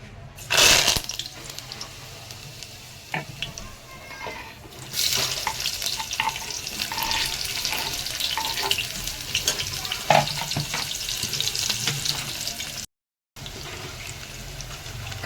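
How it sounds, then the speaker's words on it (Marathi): Spices and onion drop into hot oil for tempering, sparking a sudden crackle and then a steady sizzle with occasional stirring clinks and pops, close and moderately loud throughout. "तर आता आपण फोडणी देऊ."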